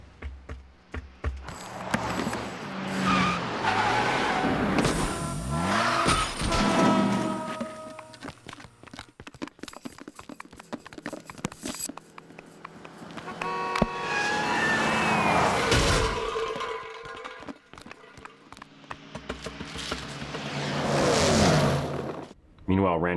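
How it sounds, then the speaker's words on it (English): Toy Story 2 sound effects of cars driving overhead, skidding and smashing into each other, with bursts of engine noise, tire screeches and crash impacts rising and falling over about twenty seconds. "the big world of the cars driving overhead and smashing into each other"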